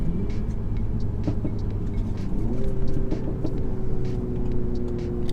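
A Mini Clubman with all-wheel drive and a manual gearbox cruising on the road, a steady engine drone and low road rumble heard from inside the cabin, with a slight swell partway through and no talking.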